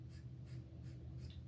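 Fiskars scissors cut hair at home in a quick series of about four or five soft, crisp snips, spaced evenly and heard up close.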